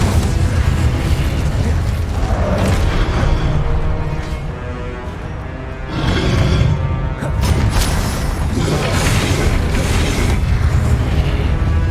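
An Incendio fire spell cast in Hogwarts Legacy on PS5 gives loud whooshing bursts and booming blasts, with rolling fiery crackle that dips briefly and then swells again, dense and close.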